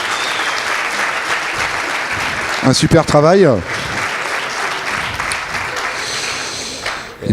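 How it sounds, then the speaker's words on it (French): Loud, sustained audience applause at a big data conference for the apprentices, dense clapping throughout with a short spoken phrase and a whooping voice rising over it midway. "je crois qu'on peut les applaudir très fort"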